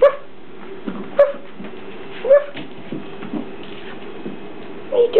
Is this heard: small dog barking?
yes